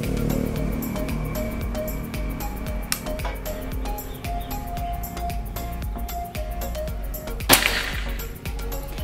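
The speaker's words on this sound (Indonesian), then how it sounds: "kita lanjut ke tembakan keempat." A Predator 500cc Tactical air rifle fires one sharp shot, a loud crack with a brief bright burst standing out against steady low background noise.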